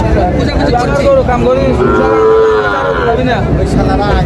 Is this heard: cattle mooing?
yes